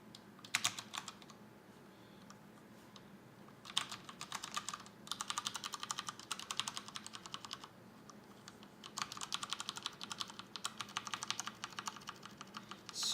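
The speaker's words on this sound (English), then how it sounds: "let me just do a quick typing test for you guys, so you can hear what they sound like" Quick bursts of typing on a Cooler Master Storm Trigger mechanical keyboard, crisp clicky keystrokes close up, coming in rapid runs separated by short pauses.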